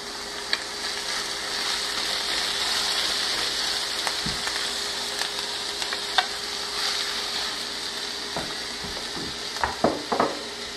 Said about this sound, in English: Then we're going to add our red beans and allow it to saute a little bit.